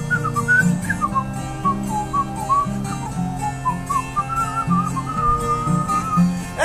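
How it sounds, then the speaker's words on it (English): A man whistles a little tune alone, a lilting melody of held and sliding notes at close range with no talking over it. "he was whistling a little tune went like this."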